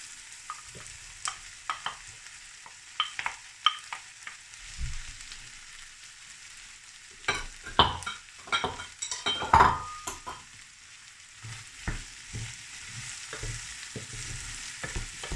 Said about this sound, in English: In go the mushrooms.